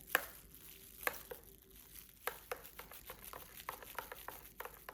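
Mayonnaise and green chutney being stirred together in a bowl, heard as quiet, irregular scraping and soft clicking taps, close by and without talk.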